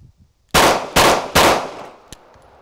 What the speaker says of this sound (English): The gun fired.